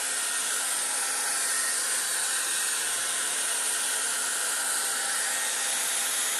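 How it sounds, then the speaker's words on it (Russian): A hair dryer blows a steady, loud, unbroken whoosh at close range while drying wet watercolor paper, with no voices heard. "Немного сушу феном."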